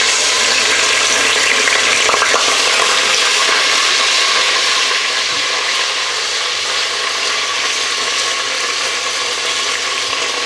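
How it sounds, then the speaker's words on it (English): Whole spices and ginger fry in hot oil for a lamb paya curry, a loud, dense, continuous sizzle close up with faint scraping and clinks, no voices. "I'm going to throw in the whole spices and just fry them for about 30 seconds"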